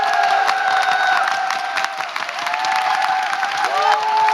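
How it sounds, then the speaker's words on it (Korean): An audience claps together at the end of a talk on a Korean lecture stage, a dense, steady wash of applause with a few cheers, close and sustained throughout. "더욱 행복해지는 의미에서 박수 치면서 마무리하겠습니다"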